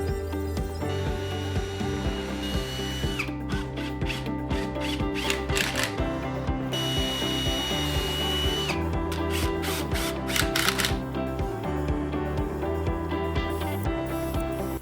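A power drill drives screws into wood and a melamine base while a concrete mold is assembled, its motor whirring continuously and loudly, with repeated bursts as screws bite in and steady mechanical hum throughout.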